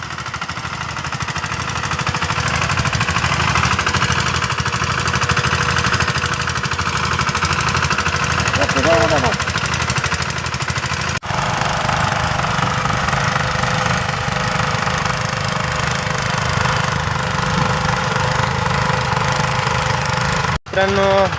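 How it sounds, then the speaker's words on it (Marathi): Two tractors run together during farm loading, a loud continuous rattling, knocking engine drone that holds steady throughout, with faint voices in the background. "दोन्ही पण ट्रॅक्टर सुरू झालेले आहेत."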